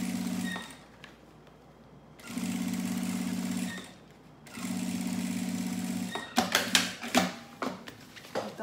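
A domestic sewing machine stitching in three steady motorized runs separated by brief pauses, loud and close, followed by a few sharp clicks and knocks as the fabric is handled.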